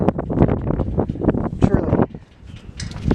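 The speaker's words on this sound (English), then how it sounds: "It's windy." Strong wind buffets the microphone in gusty, uneven rumbling bursts atop an old lookout tower at sunset in Cooks Forest State Park, loud and close.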